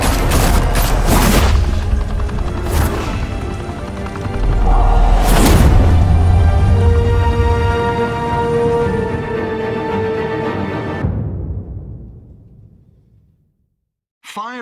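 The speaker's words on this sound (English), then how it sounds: "Open fire!" Gunfire in the video game Batman: The Telltale Series booms and crackles in loud bursts over a dramatic musical score, dying away to silence near the end.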